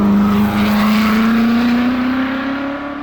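A Ford GT40 race car engine drones steadily at a sustained pitch that climbs slowly, loud and close before easing off toward the end, with no talk.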